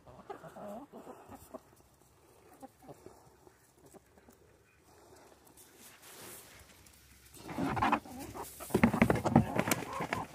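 Chickens cluck and murmur in a backyard coop, soft scattered calls early on rising into a louder, busier burst of clucking toward the end.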